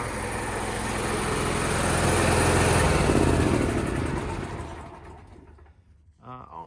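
A Bowie Lancer 600/700 machine's engine runs loudly and steadily for several seconds, then drops away, with a short burst of talking near the end.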